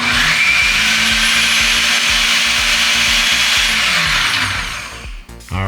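A Ninja Detect food processor with its processing pitcher attached runs loud and steady for about five seconds, a coarse whirring motor grind with rhythmic chopping knocks, then spins down and stops near the end.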